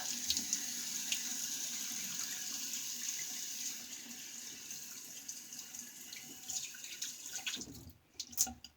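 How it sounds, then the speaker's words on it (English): A bathroom tap runs into a sink while someone shaves with a razor and honeysuckle soap, giving a steady faint trickle with small drips and a few louder splashes near the end. "let me get a little water here"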